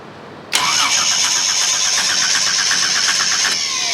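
An inline six engine cranks over without catching, its starter motor whirring steadily for about three seconds at close range before cutting off.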